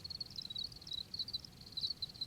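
Crickets chirping indoors, a faint high rhythmic trill repeating in quick pulses over a quiet background.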